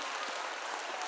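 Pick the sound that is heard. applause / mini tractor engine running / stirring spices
applause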